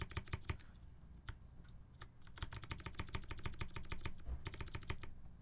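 Quiet clatter of mechanical keyboard keys being pressed, tested with a slightly warped clear keycap: bursts of quick clicks, a pause, then a steadier run of typing, with a low hum underneath.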